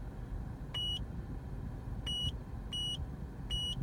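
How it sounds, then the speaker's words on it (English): An Eonon GA7151 car head unit in a Mazda 3 gives four short electronic beeps at uneven intervals, quiet over a low cabin rumble. "you just hold the mode button, then you hear a beep"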